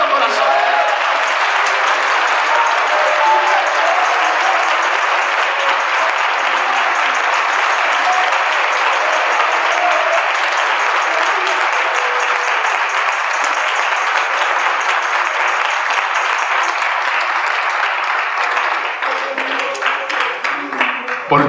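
A crowd at a men's church retreat gives sustained, dense applause, loud and steady throughout before thinning slightly at the end.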